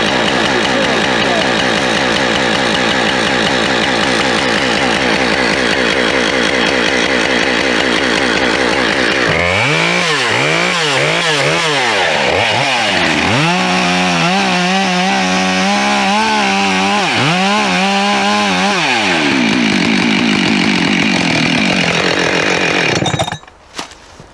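A Husqvarna 572 XP chainsaw cuts into a red pine during felling, running loud and close throughout, with a steady idle giving way to bogging, rising and falling revs as the chain works through the wood before cutting off abruptly at the end.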